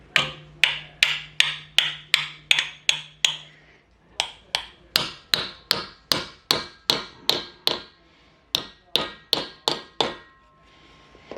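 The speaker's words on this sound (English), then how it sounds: "And now we're going to take our hammer" Sharp metallic hammer blows ring out in steady rhythm, about two per second, in two long runs with a brief pause between, as metal held in a vise is bent for a motorcycle license plate holder.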